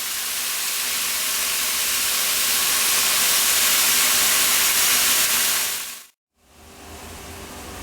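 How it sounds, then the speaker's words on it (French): Burger meat topped with cheese sizzling in a frying pan, a steady loud hiss that cuts out abruptly near the end before resuming more softly. "je vais baisser la température de ma poêle et je vais laisser donc chauffer et cuire tranquillement"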